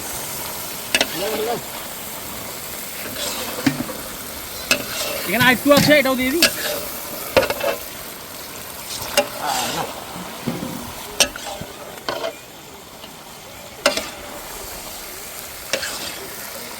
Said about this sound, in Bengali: দাঁড়াও, আমি আস্তে আস্তে দিয়ে দিচ্ছি, আস্তে আস্তে চিকেনটা দিয়ে দিই।